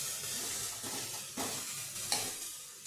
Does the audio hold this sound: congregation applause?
no